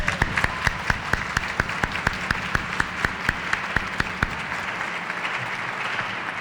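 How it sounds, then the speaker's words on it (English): Applause at a children's advocacy rally: a few sharp, near claps in a steady rhythm over a wider crowd clapping, thinning out toward the end. "Let's give them one more round of applause."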